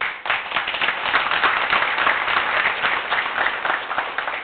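Dense, loud applause from the audience at a union seminar, sustained and even throughout without speech.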